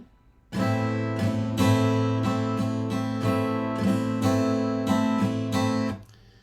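An acoustic guitar strums a steady four-beat rhythm of down and up strokes, ringing chords played alone for several seconds.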